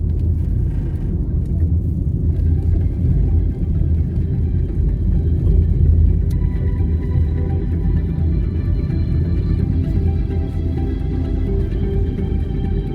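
A car driving a road through Meadowbrook Estates toward Duhaney Park Plaza in Kingston, Jamaica, gives a steady low engine and road rumble from inside the vehicle, even throughout with no talk.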